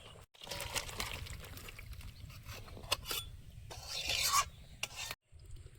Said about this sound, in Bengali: ফুলকপি আলু ট্যাংরা মাছের ঝোল হয়ে গেছে গামলিতে ঢেলে নেব